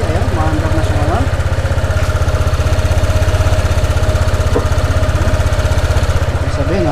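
A Honda PCX160 scooter engine running after a fuel pump fix, a loud close idle with a rapid, steady putter and a slight irregular misfire, with someone talking over it.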